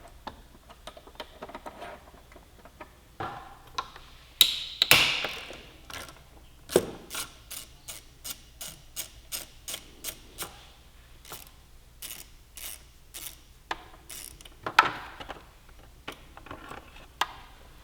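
Ratchet wrench clicking as it undoes brake line mounting bolts on a Yamaha YZF-R6 motorcycle, with quiet bursts of rapid ticks separated by pauses, close up and alone.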